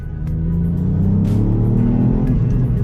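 Hard acceleration in second gear from a 2019 Ford Fiesta ST, a loud, steadily rising engine roar that builds over a few seconds without any talking.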